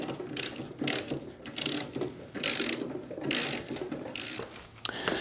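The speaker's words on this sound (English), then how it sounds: "I'm just going to use a wrench and a socket." A socket wrench on a 9/16 bolt and nut at the swing arm of a Green Guard chute blocker ratchets in short repeated bursts of clicking, with brief pauses between strokes, close and clear without talk.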